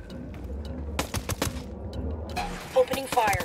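Bursts of automatic gunfire crackle in the video game Ghost Recon Wildlands, several rapid volleys over a few seconds mixed with faint game voices and background sounds.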